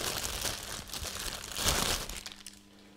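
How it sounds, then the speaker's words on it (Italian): A fishing reel is pulled out of a plastic bag during an unboxing, giving a steady, close crinkling and rustling of plastic that fades near the end. "tiriamo fuori dal sacchetto"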